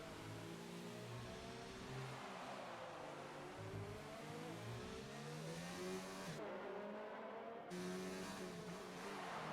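Race cars at full throttle in a PC racing game at Singapore, engines whining and shifting through gears in a continuous layered roar, several cars together, with no talk over them.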